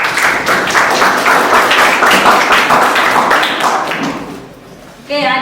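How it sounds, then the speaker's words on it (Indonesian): Classroom applause for a student group presentation during a teaching session, with loud, dense clapping that gradually fades, followed by a teacher's voice at the end. "Kasih tepuk tangan."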